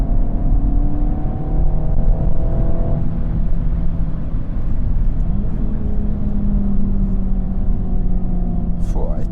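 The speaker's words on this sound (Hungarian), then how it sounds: "rotyog a seggünk alatt a kipufogó." A Renault Megane R.S. Cup with a 1.8 turbo engine drives along, its exhaust droning and burbling steadily from inside the car for several seconds, with a slight shift in tone partway through.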